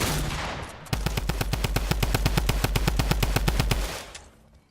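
P90 submachine gun fire in a video game: a loud, sustained rapid burst of evenly spaced shots, around thirty rounds in about three seconds, cutting off sharply and followed by a brief fading tail.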